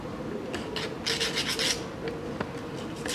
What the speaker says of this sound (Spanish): siempre una pasadita con lija en los laterales, que es donde estaba unido